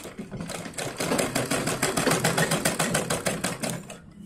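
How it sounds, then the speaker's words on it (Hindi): Sewing machine stitching a border over gota trim on a small summer dress for a Laddu Gopal idol, a rapid, even train of mechanical clicks and whirring pulses, close and steady after a brief slower start. "मशीन से घोटे के ऊपर फिर से हम जो है बखिया लगाएंगे"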